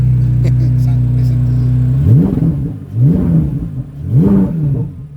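A 2023 Corvette Z06 engine in track mode with the exhaust fully open idles with a deep steady burble, then three sharp revs rise and fall one after another, loud and close.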